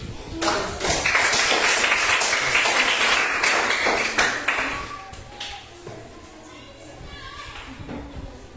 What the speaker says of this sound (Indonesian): terakhir kita tepuk tangan dulu untuk